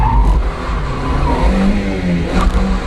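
Mazda MX-5 Mk1 engine revving hard while drifting, a loud close continuous engine roar that wavers in pitch as it revs, with faint tire noise mixed in.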